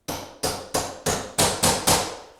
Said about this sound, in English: you can just start to gently hammer that into position